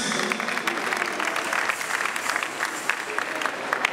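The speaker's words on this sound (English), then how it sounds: "One round of applause" Audience applause at a church anniversary celebration, steady dense clapping from a crowd that holds at an even level throughout.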